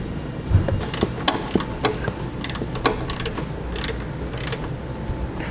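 Ratchet tightening a 10mm nut on a bracket while a Roadmaster crossbar-style base plate kit is installed on a 2015 Ford Fiesta, a rapid run of sharp clicking strokes close up.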